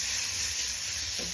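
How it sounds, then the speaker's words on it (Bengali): Vegetables tossed with curry powder frying in a pan for pasta, a steady close sizzle and hiss with no voices. "মেখে একটু ভালো করে ভাজা করি"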